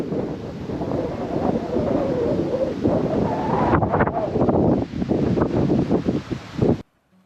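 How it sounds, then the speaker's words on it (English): Strong wind buffets the microphone in heavy, rumbling gusts that roar continuously before cutting off abruptly at the end, recorded from a car in South Australia. "very windy conditions,"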